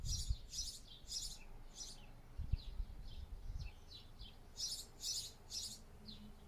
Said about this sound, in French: profitez avec moi du chant des oiseaux.